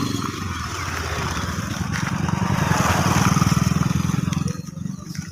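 A motorcycle engine drones close by on a road, growing louder toward the middle as it passes, then fading near the end. Steady buzzing putter with faint background noise.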